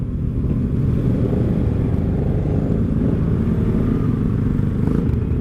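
Kawasaki Ninja motorcycles on a squad ride rumble steadily close by, a loud continuous engine drone with slight shifts in revs and no speech.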